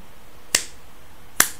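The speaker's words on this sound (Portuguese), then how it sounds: "estalar de dedos" Two crisp finger snaps spaced about a second apart, sharp and close, alone against a quiet background.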